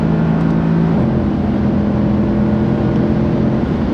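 A car accelerating hard on a de-restricted German Autobahn, heard from inside as a loud, continuous engine roar whose steady tones shift upward after about a second, mixed with wind and road noise and no talking.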